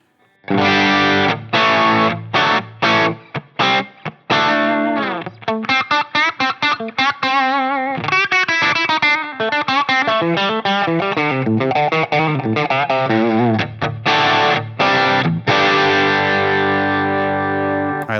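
Electric guitar through a Line 6 Helix Brit 2204 amp model (JCM800 style) with the master pushed into power-amp breakup and no preamp drive, playing loud chords and fast single-note runs with sustained ringing notes, continuous and close.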